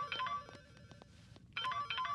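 A phone ringtone plays a bright, repeating electronic melody in two bursts separated by a softer patterned stretch, close and clear.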